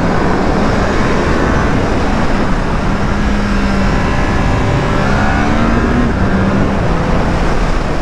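A Triumph Trident 660 motorcycle leaning through a curve on a slightly wet road, its steady engine drone and road rumble continuous and close throughout, with no talk.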